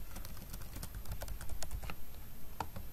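Quick, irregular keystrokes on a computer keyboard as an email address and password are entered into a web app login form, close and fairly steady with no voices.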